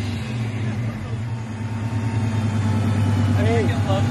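Supercharged Scion FR-S engine held at a steady idle then revved upward, a deep throbbing drone rising in pitch near the end, with blow-off valve chirps possible; excited voices talk over it nearby.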